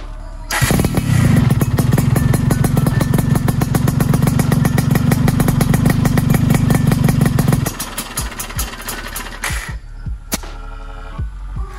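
A 124cc motorcycle with an aftermarket knalpot exhaust runs loud and close, a throbbing, pulsing exhaust note held steady for several seconds before dropping to a rougher, uneven idle with sputters and pops.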